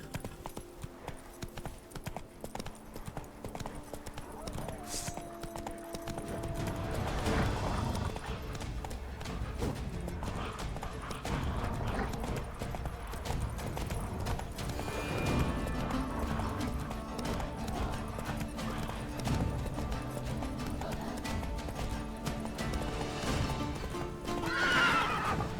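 Roach, the horse in The Witcher 3 video game, gallops with steady rhythmic hoofbeats and lets out a loud whinny, the pounding clip-clop continuing under game ambience for about twenty-five seconds.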